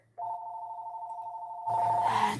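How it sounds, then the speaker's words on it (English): A phone rings with an incoming call, a steady electronic warble holding for about a second and a half, then a voice speaks over the ringing near its end. "Sorry about the phone call."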